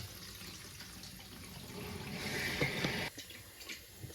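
A water pump switches on and water rushes through the line as pressure builds, a steady broadband wash that grows louder midway and then eases into uneven gurgling spurts near the end.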